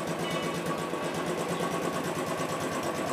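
A Royal Enfield motorcycle engine idles close by, a continuous steady thumping putter with a mechanical rattle, even and unbroken throughout with no talking.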